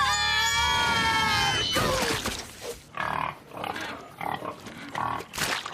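A cartoon pig lets out a long, loud high-pitched squeal, then a string of rhythmic grunting oinks follows in short bursts, close and prominent without talk.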